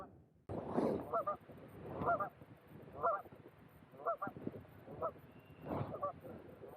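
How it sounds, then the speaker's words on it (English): Geese honk repeatedly in loud, close bursts roughly once a second, with a flock calling in the background. "Some noisy geese out there."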